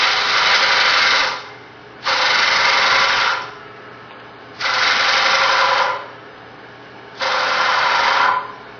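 A woodturning scraper cuts on a lathe with fresh burr, four loud rasping passes of about a second each, separated by short quieter gaps under a low steady motor hum.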